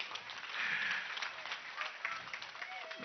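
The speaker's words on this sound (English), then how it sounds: "Another round of applause." Applause from members in the Zambian National Assembly chamber, a brief, faint burst of clapping that rises and then thins out.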